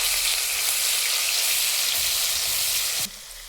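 Ginger garlic paste fries in oil in a kadai with a steady, dense hiss up close. The sizzle runs unbroken and drops suddenly quieter near the end, with no one speaking.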